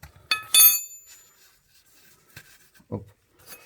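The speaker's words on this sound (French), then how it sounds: "Donc votre bouchon de vidange, lui, il est là. Votre carré de 8. Donc vous dévissez." A square 8 mm key unscrews the oil drain plug on a Renault Scenic 3. Sharp metallic clinks and scrapes come up close, with quiet gaps between them and a brief low thud near the end.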